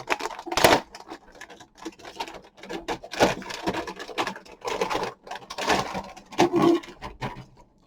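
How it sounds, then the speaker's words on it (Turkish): A plastic bag around an MSI RTX 4080 Super Suprim X graphics card being opened up close, with sharp crinkling bursts and rustles in uneven clusters separated by quieter pauses. "İşte bu şekilde Poşetini de açıyorum."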